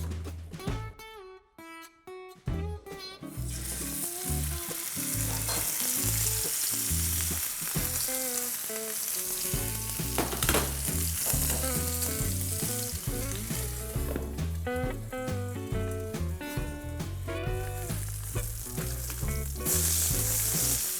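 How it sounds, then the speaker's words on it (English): Pork meat sears in hot oil in a frying pan, a loud, sustained sizzle that runs throughout, with steady tonal sounds layered over the crackle. "I'm going to sear the pork meat by both sides"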